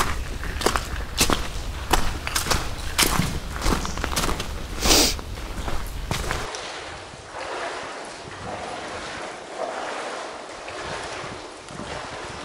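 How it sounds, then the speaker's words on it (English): Someone in wellies wades through flood water in an abandoned railway tunnel, with rhythmic splashing steps for about six seconds, followed by a quieter, hissy stretch. "we're gonna have to wade through some more water to get in"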